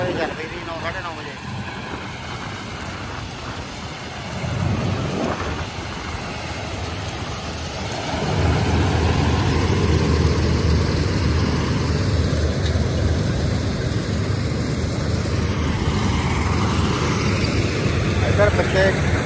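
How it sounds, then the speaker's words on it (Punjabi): A combine harvester runs steadily in a Punjabi field during the harvest, a continuous low engine drone that grows louder and fuller partway through, with people talking nearby over it. "ਸਰ ਪਿੱਛੇ ਕੰਬਾਈਨ ਚੱਲਦੀ ਹੈ ਜੀ"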